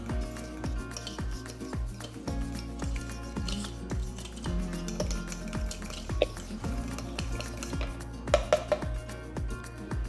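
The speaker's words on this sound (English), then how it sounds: "Stir that all together." Brown sugar, vanilla extract and applesauce being stirred together in a bowl, with a steady rhythmic series of soft knocks and scrapes from the spoon, close and continuous, plus a few brighter clinks near the end.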